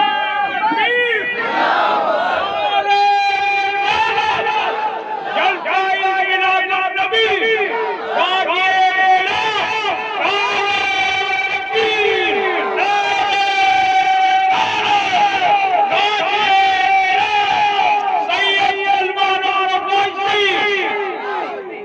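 A large crowd shouts back in loud, rhythmic unison answering a takbeer call at an Islamic poetry gathering, repeated bursts of massed voices filling the whole stretch.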